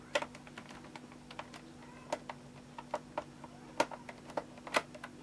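A screwdriver works a screw out of a laptop's cover, making a run of small, sparse ticks and clicks that sound close and faint against a quiet background hum.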